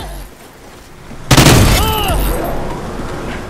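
A launcher round bursts in Call of Duty: Ghosts, a sudden loud boom that rolls into a rumbling decay, followed by scattered game sounds and brief tonal effects.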